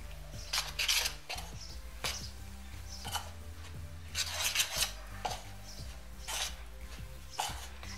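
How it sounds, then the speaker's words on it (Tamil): Homemade craft glue paste is stirred in a bowl as water is added a little at a time, with repeated scraping and clinking strokes in an uneven rhythm, close and fairly faint. "அதனால கொஞ்சம் கொஞ்சமாக வாட்டர் மிக்ஸ் பண்ணிக்கோங்க"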